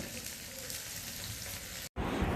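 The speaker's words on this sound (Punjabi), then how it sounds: "ਹੁਣ ਆਪਣੇ ਪਿਆਜ਼ ਤੇ ਲਸਣ ਭੁੱਜ ਚੁੱਕੇ ਆ" Chopped onion and garlic frying in an oiled pan, a steady, close sizzle that runs without a break and then stops briefly near the end.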